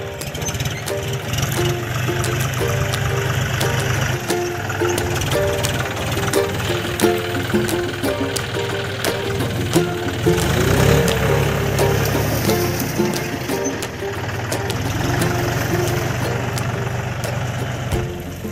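A tractor engine rumbles steadily at close range while the machine is turned around at a farm field, a continuous loud idle-like chug with a slight swell midway and no talking.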